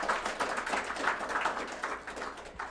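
An awards-ceremony audience claps steadily, a dense even patter of many hands that holds at moderate loudness and tapers slightly toward the end, with no voices over it.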